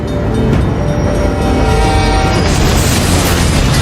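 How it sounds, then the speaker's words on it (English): A locomotive slams into the bed of a pickup truck stuck on a rail crossing, a loud sustained crash and rumble of metal with no break in the noise. "The locomotive plows into the bed of the truck,"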